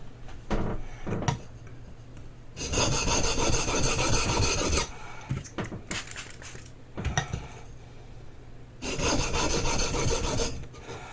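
A chisel is rubbed back and forth on a Baryonyx American Mutt sharpening stone in rapid rasping bursts of several seconds each, separated by short pauses with faint knocks and handling noises, close up.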